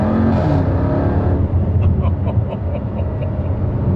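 Jaguar XE SV Project 8 pulling hard in second gear, a loud, close engine note with a rising rev at the start that settles into a steady roar, with a faint voice briefly underneath.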